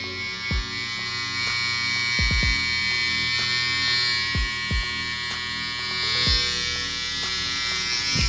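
A steady electric motor whine from an MRD Hitter cutter with a thin blade, with a constant hum, broken by a few sharp low clicks or knocks at irregular moments.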